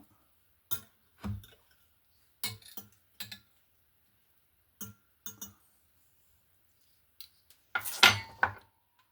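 Utensil cutting a Japanese omelette on a plate: sparse, sharp clinks and taps against the plate at irregular intervals, with a brief louder scrape-and-clatter near the end, close up, otherwise silent.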